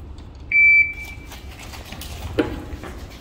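A shooting timer gives a single sharp, high electronic beep, loud and close, lasting about a third of a second, followed by quiet outdoor ambience and a faint knock.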